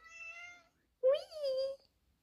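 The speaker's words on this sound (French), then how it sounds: "Ça c'est mon chat." A pet cat meows indoors at home: one drawn-out meow, then after a brief pause a louder, rising-and-falling second meow, close and clear with no talk over it.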